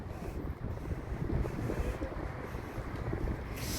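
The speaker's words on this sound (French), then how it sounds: "En plus il y a du vent." Steady wind buffets the microphone, a continuous low roar with gusty fluctuations throughout, loud and close.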